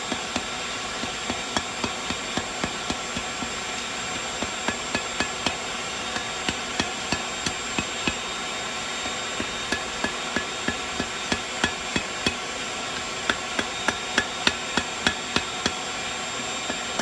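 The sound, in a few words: hammer tapping hot steel for forge welding Damascus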